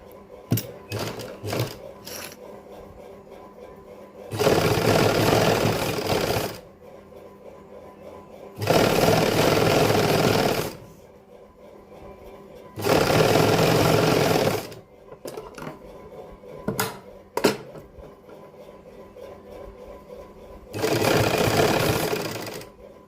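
Sewing machine stitching reversed lace along the edge of a summer suit, running in several loud whirring bursts of about two seconds each, separated by quiet pauses with brief clicks and handling sounds.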